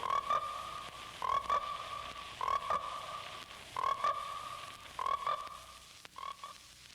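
Frogs croaking in an advertisement for the American International horror film Frogs: loud, repeated throaty croaks in regular bursts about a second apart over a low background.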